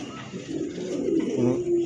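A pigeon offered for sale gives low, steady cooing that swells and continues throughout, fairly close, with a faint murmur of background noise.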